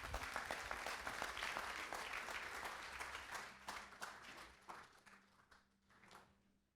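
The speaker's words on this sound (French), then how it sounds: "Applaudissements" An audience at a talk applauds, dense clapping at first that thins into scattered claps and fades out, with faint tonal hum beneath in the later part.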